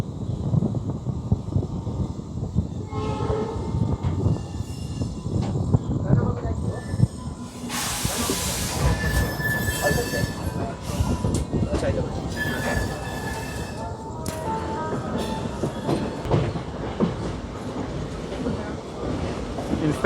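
An Indian Railways Howrah–Secunderabad special train with ICF coaches runs steadily, wheels rumbling and squealing with hissing over continuous rail clatter, heard from on board with voices talking faintly.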